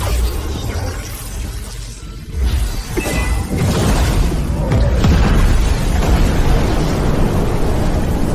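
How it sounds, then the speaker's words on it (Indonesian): A furnace explodes with a loud, sustained roaring boom and crashing debris that rumbles on for several seconds without pause. "Tungku mau meledak."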